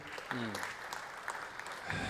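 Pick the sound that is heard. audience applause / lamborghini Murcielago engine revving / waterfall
audience applause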